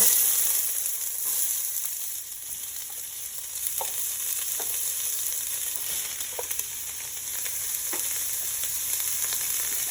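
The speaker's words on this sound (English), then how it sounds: "Mine's really hot, so you're gonna definitely see some sizzle here." Vegetables sizzle and crackle in very hot, smoking olive oil, a steady frying hiss with occasional sharper pops, close up and uninterrupted.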